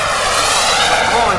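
A radio-controlled model F-18 jet passes loud and close with a broad, steady roaring engine hiss filling the whole stretch, no talk over it.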